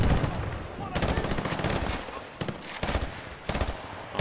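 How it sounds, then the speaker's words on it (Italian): Repeated automatic gunfire bursts in a Battlefield Bad Company 2 match, loud and dense, with several short pauses between volleys. "Chi cavolo è che mi sta sparando da dietro?"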